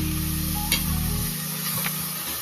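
Upma ingredients sautéing in oil in a pan, a steady close sizzle with stirring scrapes, one louder scrape near the middle, no voices.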